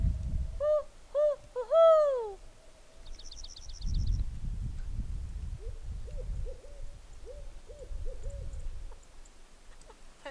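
A person imitates an owl's hoot across a frozen lake during winter camping, and owls answer with a series of hoots, some close and clear, others fainter and farther off, over light wind.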